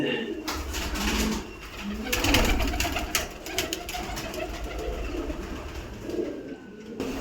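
Paired pigeons in a keeper's loft coo in low, repeated rolling calls, with some rustling and brief clatter nearby and a voice briefly in the background.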